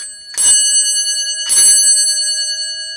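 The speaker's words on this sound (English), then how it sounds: "this is a Westinghouse low-pitched dinner bell that I absolutely love" A Westinghouse low-pitched dinner bell, salvaged from an elevator garage, is struck by hand twice about a second apart, each strike ringing out with a long, bright, sustained metallic tone that lingers close and clear.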